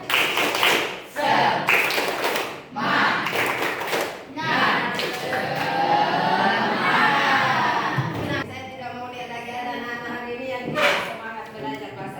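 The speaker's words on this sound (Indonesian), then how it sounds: "kita tepuk semangat dulu" A class group performs a rhythmic spirit clap in unison, sharp clapped bursts in a patterned beat mixed with children's chanting and shouting voices, followed by a teacher speaking.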